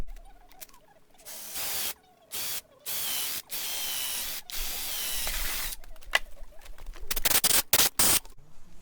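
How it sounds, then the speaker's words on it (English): A drill boring a hole up through the center of a wooden newel-style post for a pool house cabana, heard as several loud bursts of whirring separated by short pauses, ending with a few choppy closer bursts. "I'm going to drill a hole up through the center into this hole"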